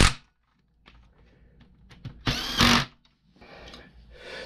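A power driver whirs in short bursts while driving bolts through the bumper of an Arrma Outcast 8s RC car, with one longer loud burst in the middle and small tool clicks and handling noises between, close up.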